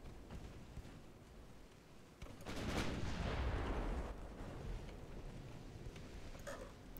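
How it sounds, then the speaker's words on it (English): Battleship guns firing in the naval video game Ultimate Admiral: Dreadnoughts: a heavy, rumbling boom swells and rolls for about two seconds over a low background wash, fairly quiet and distant-sounding, with no talking. "Not when I have a couple of very sizable ships firing back at me,"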